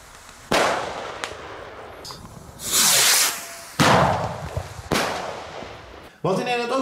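Firecrackers go off in Italy, a string of sharp pops and bursts spaced irregularly across a few seconds, some with hissing trails, fairly close and loud.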